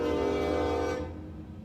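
A passing train sounds its horn in a sustained blast, then the horn cuts off and the rumble of the train fades away.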